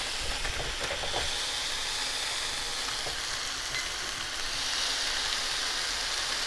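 Smashed burger patty frying on a hot griddle, giving a steady, close sizzle and hiss that runs unbroken for several seconds, with no talking.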